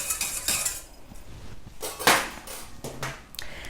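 A spoon stirs a natural cosmetic formulation in a small container, giving a run of light clinks and scrapes at close range. The strokes come irregularly, with a sharper knock about midway, and no one speaks.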